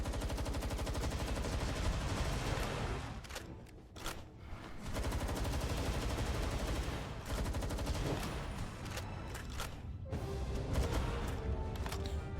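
Rapid sustained assault rifle fire from a shooter video game, dense bursts of gunshots running almost continuously with brief pauses between volleys, loud and close.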